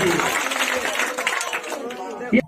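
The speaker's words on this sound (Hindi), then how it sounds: "इनके लिए जोरदार तालियों से स्वागत करिए" Audience applause rewarding a correct answer at a Maa Saraswati quiz competition, a steady wash of clapping from the crowd with voices mixed in, ending in a brief louder burst.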